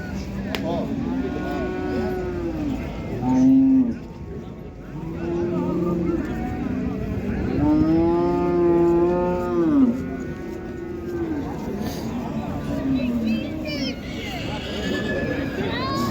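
Cattle moo repeatedly at the Qarshi livestock market, several drawn-out calls rising over a steady crowd murmur, with people talking throughout.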